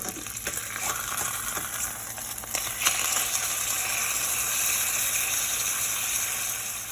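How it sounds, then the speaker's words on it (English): Pork chops searing in olive oil in a hot pan, a steady loud sizzle and crackle throughout with brief stirring or shifting noises early on. "I'm going to flip it on the other side. Remember, I'm not trying to cook the pork chop all the way through. I'm just trying to sear in the seasoning."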